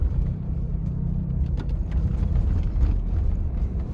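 A 1994 Oldsmobile Silhouette minivan is driven with its windows up, giving a steady, low, muffled rumble of road and engine noise inside the cabin, with no voices.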